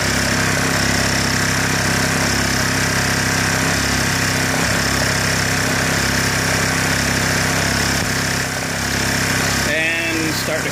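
A Honda EU1000i inverter generator runs steadily and loud up close, a continuous buzzing engine hum with a brief shift near the end, and no talking over it.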